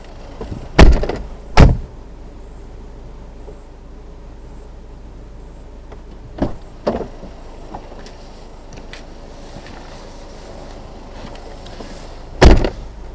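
Car doors open and shut during a driving lesson seat swap: a pair of heavy thuds near the start, two softer knocks midway and one more loud slam at the end, over a quiet cabin hum.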